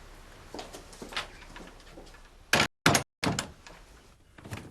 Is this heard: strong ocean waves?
no